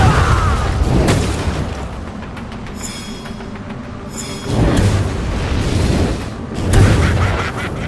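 Fire apocalypse spell explosions in the Lichdom: Battlemage video game, loud rumbling booms and rolling roars that swell repeatedly over a continuous heavy, grinding din.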